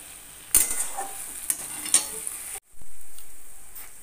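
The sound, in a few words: stirring kochur loti (taro stolons) cooking in a pan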